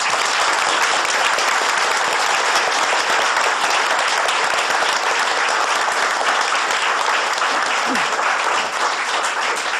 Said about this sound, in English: Now, I ask the audience to welcome our candidates with a warm applause.